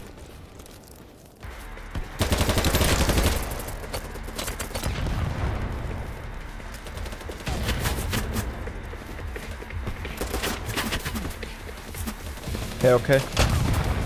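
Gunfire in the video game BattleBit Remastered: bursts of rapid shots crack in close, with a sustained volley early and sharper bursts near the end, interspersed with game ambience and a brief spoken voice.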